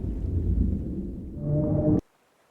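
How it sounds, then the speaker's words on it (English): A low, drawn-out whale song in the ocean, a deep rumbling moan with tonal overtones that swells steadily and then cuts off abruptly, leaving near silence. "I am a whale. I sing in the ocean."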